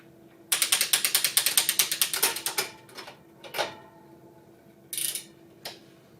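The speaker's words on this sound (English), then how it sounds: "You'll want to start by shifting the bike into the highest or smallest gear." A bicycle's rear gears being shifted before mounting on a Tacx trainer, a fast run of sharp ratchet clicks that slows and fades, then a few separate louder clicks, close and alone.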